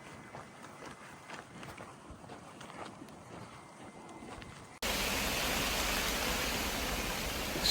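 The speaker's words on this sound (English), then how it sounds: "Absolutely bucketing down, as you can see." Heavy rain pouring down during a riverside walk along the Cray Riverway: after a stretch of muffled footsteps and rustling, a loud, dense, unbroken hiss of rainfall takes over and holds steady to the end.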